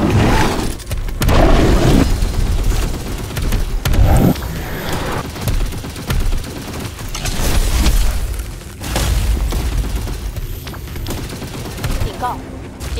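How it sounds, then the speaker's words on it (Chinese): Gunfire from a shootout in the mobile game Earth Revival, with dense bursts and booms running almost continuously at a steady, loud level alongside game speech and effects. "大家分散射击，注意互相掩护"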